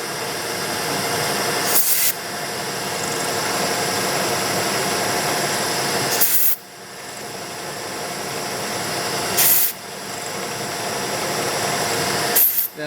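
A small undersized drill bit runs in a sensitive micro drilling attachment, opening up a shallow hole with a steady grinding whir, broken by several brief pauses where the bit is lifted out to clear chips.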